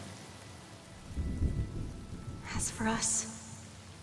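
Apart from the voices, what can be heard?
rain and thunder in Honkai: Star Rail video game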